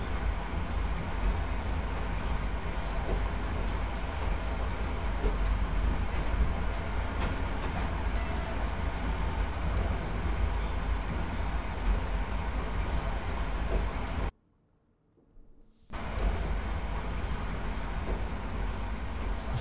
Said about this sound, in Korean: 저 지하철을 탄지 8시간째 난 어디로 가고 있는가